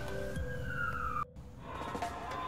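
A wailing ambulance siren with a steady rising-falling tone, cut off abruptly midway before traffic noise and a fainter siren tone resume.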